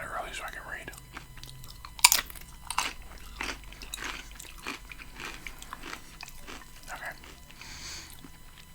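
Crunchy bites and wet chewing of tacos in a close, quiet mukbang setting, with repeated crisp crunches around the second mark and softer chewing throughout under a brief spoken word.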